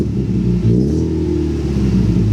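A car fitted with a new exhaust revs close by, a deep, loud rumbling drone that swells and holds steady without any voices.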